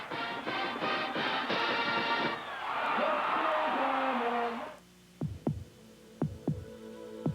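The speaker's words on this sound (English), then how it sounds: "Listen to the heartbeat." Heartbeat sound in a 1980s Chevy television commercial aired during a college football broadcast, a steady throbbing pulse under a swelling musical hum, then several distinct low thumps sounding alone near the end.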